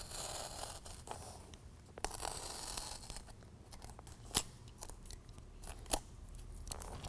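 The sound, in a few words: razor knife cutting BedRug carpet liner squares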